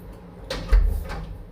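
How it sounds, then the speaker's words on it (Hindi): A household door swung shut indoors, a single close wooden thud with a brief rattle as it settles, alone without speech. "जरा मैं दरवाजा बंद कर दूँ।"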